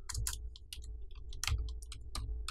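Keyboard keys being typed in a quick irregular run of clicks, close and fairly clear, over a low steady background hum with no voice.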